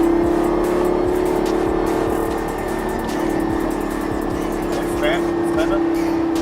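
A Lamborghini Gallardo holds a steady cruising speed on a race circuit under light throttle, its engine a constant close drone throughout with an instructor's voice talking over it.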